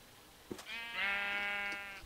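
A Minecraft sheep gives a single drawn-out bleat, clear and fairly close, with a short tapping sound before it and no speech.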